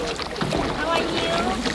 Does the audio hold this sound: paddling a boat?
yes